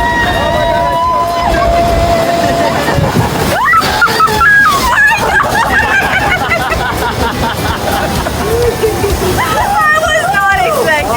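Water rushes and splashes around a raft on the Kali River Rapids ride at Animal Kingdom, loud and churning throughout, with excited voices and shrieks from riders over the spray.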